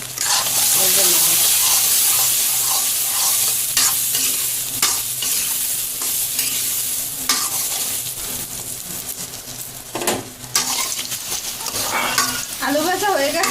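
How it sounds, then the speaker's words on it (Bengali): Potatoes with turmeric and salt fry loudly in a pan, the strong sizzle broken by repeated scraping and clinking of a spatula stirring against metal, close up. "এখন আলুটা ভেজে নেব।"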